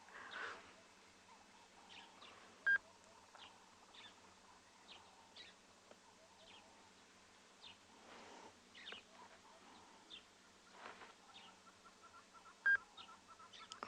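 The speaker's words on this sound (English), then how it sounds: "You can hear the hornbills." Hornbills call at sunrise on the Tswalu reserve in the Kalahari, a faint, distant series of short repeated calls over a quiet outdoor background.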